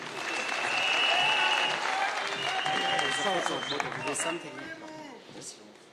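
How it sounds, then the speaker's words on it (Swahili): A rally crowd in Kenya claps for the deputy president, a broad, sustained burst of applause that builds and then slowly thins out, mixed with distant cheering and voices over the event audio. "Makofi kwa Deputy Rais."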